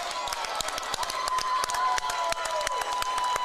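Crowd clapping in a high school gym at a girls' basketball game, many sharp, fast claps from a nearby crowd with cheering and voices underneath, steady throughout.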